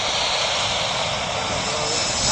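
Delta Airlines jet airliner, likely a regional jet, taking off from Minneapolis airport on a rainy day: a steady, loud, broadband engine roar that fills the whole clip with no break.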